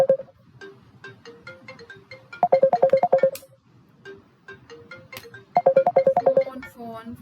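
Phone ringtone playing in repeated bursts of bright electronic tones, with quieter gaps between bursts and a loud, close sound.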